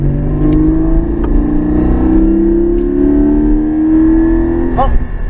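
Porsche Cayman GT4 on a race track accelerating hard, its engine note rising steadily through the gear in a loud, continuous close-up drone, with a brief sharp rev spike near the end.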